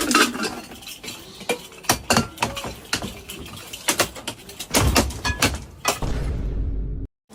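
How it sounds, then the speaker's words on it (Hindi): Steel pressure cooker lid being handled and fitted with its rubber gasket, giving a series of close metallic clinks, taps and scrapes in an irregular rhythm, ending with a short louder clatter and a low rumble. "ये अपना प्रेशर कुकर का रबर चेक करते हुए अपने ढक्कन में उसको लगाया और प्रेशर कुकर में लगाया"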